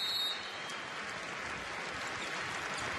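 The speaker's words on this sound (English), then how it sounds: "Standing ovation from mom and dad for Keon Johnson" Fans at a Winthrop vs Butler NCAA Tournament basketball game clap and cheer as a player leaves the floor, a steady wash of arena applause with faint whistles throughout.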